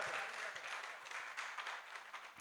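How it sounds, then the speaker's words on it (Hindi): Audience applause at a Jain Gajrath procession festival: a faint, steady patter of many hands clapping, with no pauses across the moment. "बजाते रहो, तालियां बजाते रहो।"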